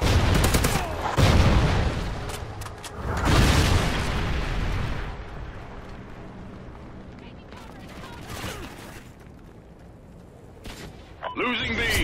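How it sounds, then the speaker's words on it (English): Trinity rocket strikes in Call of Duty: Ghosts land as heavy, loud explosion blasts that roll into gunfire and booms, with sustained rumbling between hits. "Friendly Trinity rocket inbound."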